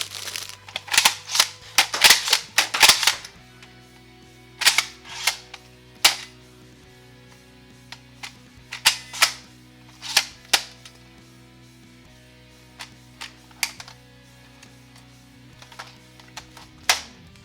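Nerf Rebelle Codebreaker pump-action crossbow firing standard foam darts: a fast burst of sharp snapping shots early on, then separate clicks and snaps spaced out across the rest, close and fairly loud with no talking.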